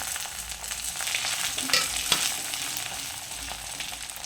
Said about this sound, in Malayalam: ഇത് നല്ല ചൂടായതും നമുക്ക് കടുകിട്ട് കൊടുക്കാം കടുക് പൊട്ടി വന്നതും